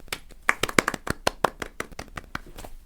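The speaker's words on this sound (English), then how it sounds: "Claps from Pennant" Scattered, uneven hand claps from a small group at a school broadcast, sharp close slaps bunched in the first half and thinning out, with no voices over them.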